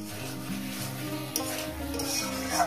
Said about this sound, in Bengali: ধনে পাতা দিয়ে আমি আরো 1 মিনিট কষিয়ে নেব।